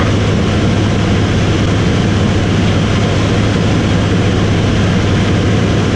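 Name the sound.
de Havilland Beaver aircraft engine in flight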